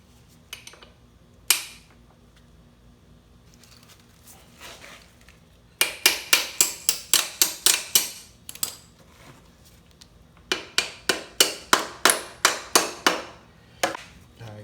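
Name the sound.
pin being tapped into a dirt bike foot peg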